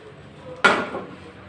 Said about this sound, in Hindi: अब हम यहाँ से पकड़ेंगे और इनको हल्के से ऐसे उछाल लेंगे।